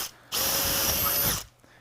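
A power drill bores through a polycarbonate plate in one loud, steady whining burst of about a second, starting and stopping abruptly, close up with no talking.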